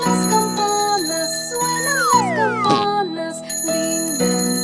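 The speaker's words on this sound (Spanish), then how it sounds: "Suenan las campanas" Bright bicycle-style bell rings sound repeatedly inside a children's nursery song, chiming over a steady tuneful backing with a sliding melodic line; no voices stand out.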